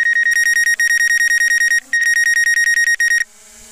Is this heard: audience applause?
no